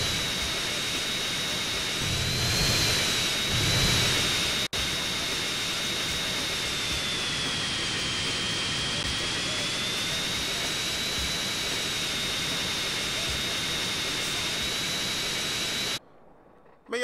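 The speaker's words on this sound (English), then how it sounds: "He really just stole a military plane." A stolen military jet in GTA San Andreas roars with a loud, steady engine whine that swells briefly early on, then cuts off abruptly near the end.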